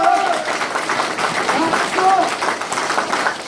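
A crowd at a campaign office opening ceremony for a People's Party candidate in Uijeongbu applauds steadily, the clapping close and sustained with voices in the room.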